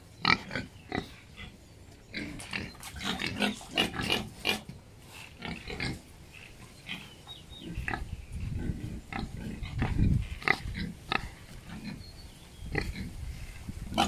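Pigs on an Indonesian pig farm grunt and squeal in their pens, with bursts of snorting and oinks repeating close by at irregular intervals and no voices.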